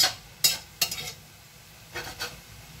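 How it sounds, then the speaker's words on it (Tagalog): Vegetables being stir-fried in a little cooking oil for a rice cake dish, giving short bursts of scraping and sizzling as a utensil stirs the pan, with quiet pauses between the strokes. "Guys, lutuin natin konti yung ating gulay."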